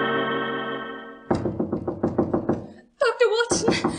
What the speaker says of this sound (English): I was awakened by the maid rapping frantically at my door.